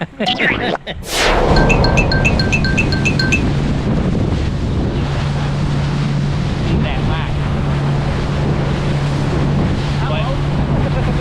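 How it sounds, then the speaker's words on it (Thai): Strong wind buffets a boat at sea off Rayong near Koh Man, roaring loudly and continuously with gusty microphone rumble and splashing water, following a short burst of beeps at the start. "ลมจะกระพือกระพือเนาะ"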